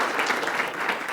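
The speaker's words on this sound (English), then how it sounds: "Give her a round of applause." Audience applause at a campaign event for a Cook County State's Attorney candidate, a steady broadband clatter of many hands clapping throughout, fairly close and even in level with no talk over it.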